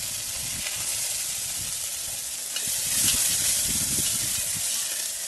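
Cumin, asafoetida, curry leaves and bay leaf sizzle in hot mustard oil over a wood-fired chulha while masale bhat is being made, a continuous close crackling hiss that swells briefly as more spices go in.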